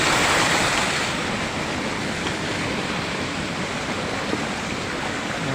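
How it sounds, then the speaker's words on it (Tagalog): A river rushing with swollen water after a recent flood, a dense continuous roar of flowing water close by, steady and fairly loud with no voices. "Tingnan nyo po ang ilog namin, oh. Napakaganda pag bagong baha."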